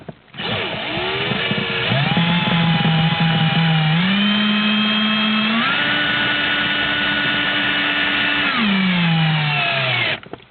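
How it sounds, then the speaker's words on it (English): A cordless drill drives the first screw into a plastic speaker pod for a 2015 Jeep Wrangler JK Unlimited, its motor whine rising in pitch in steps and holding steady for about eight seconds before winding down. "So now I'm going to run the first screw in right around here."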